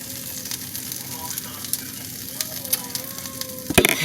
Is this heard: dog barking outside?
no